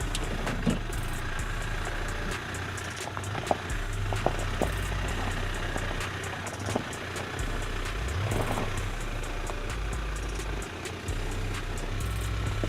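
A mid-size SUV engine rumbles and throttles while crawling over an off-road obstacle, a low, uneven drone with shifting revs and occasional knocks and clunks from the chassis.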